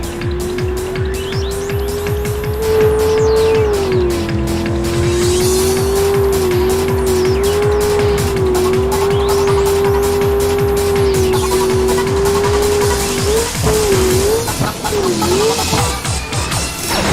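A video game car running flat out at its top speed of 160 gives a loud, continuous engine whine that holds steady, then dips and wavers in pitch near the end, with possible tire squeal.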